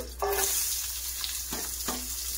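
Onion dropped into a hot pan for prawn curry, a sudden sizzle that settles into a steady close frying hiss with a few brief clatters.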